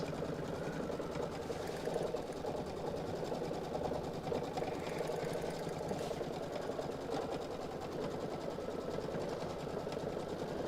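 A Brother Solaris Vision sewing machine quilts a border with a steady, continuous rapid needle hum that runs unbroken at an even, close level with no talking.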